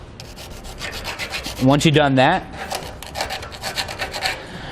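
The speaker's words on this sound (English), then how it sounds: "Just kind of scrape it off with the file." A hand file rasps metal shavings off freshly drilled holes while an EZ Gate tailgate lift assist is fitted to an open landscape trailer. Steady back-and-forth strokes sound close and loud, and a voice speaks briefly.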